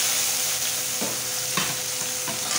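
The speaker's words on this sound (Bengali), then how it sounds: "পেঁয়াজ কটা দিয়ে দেবো, যেটা হয়ে গেছে পেঁয়াজ দিয়ে দিচ্ছি" Chopped onions fry with whole cumin in hot oil and are stirred, a loud, dense, close sizzle with a few scraping strokes of the spatula.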